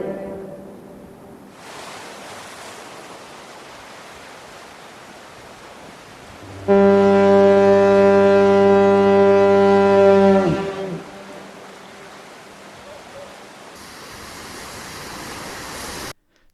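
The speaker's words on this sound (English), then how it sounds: "Portlanders particularly loved the grunt at the end of each blast, caused by the piston decelerating as the air supply was cut" Portland Bill lighthouse foghorn, one long deep blast lasting about four seconds that ends in a low grunt, rising over steady surf and wind noise.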